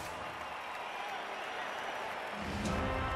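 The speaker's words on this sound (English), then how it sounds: "Cheerleaders cheer." Cheerleaders cheering after a touchdown in the Blood Bowl II video game, Necromantic vs. Dark Elf: a steady, broad crowd roar with clapping-like texture, swelling slightly at the end.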